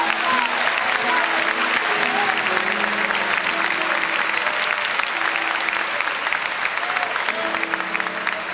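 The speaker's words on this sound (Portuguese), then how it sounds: "Vamos aplaudir a Deus pela vida dele." A church congregation claps loudly and continuously throughout, a dense roar of hands with faint tones and voices beneath it.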